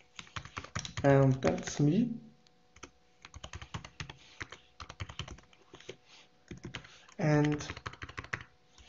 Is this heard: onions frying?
no